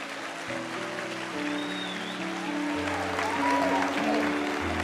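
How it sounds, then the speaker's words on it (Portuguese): A church congregation at a plenary session of a Christian conference applauds, the clapping rising gradually over sustained musical tones. "Se vai aplaudir, faz com gosto."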